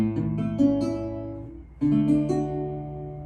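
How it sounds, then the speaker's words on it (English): Two strummed major chords on guitar, each left ringing before the next, played alone at moderate volume. "they could also be straight major chords"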